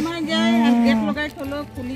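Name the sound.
cow mooing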